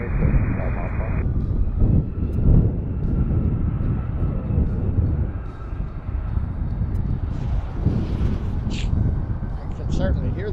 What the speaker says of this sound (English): Certainly hear the jet blast.